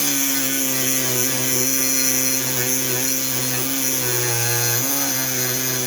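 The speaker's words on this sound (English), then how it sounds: "So I'm going to get out the Dremel and see how much I can whittle this down." A Dremel grinds down a metal heat shield on a Porsche 944 Turbo, giving a steady, high-pitched whine close up that holds for several seconds and dips briefly near the end, with no talking.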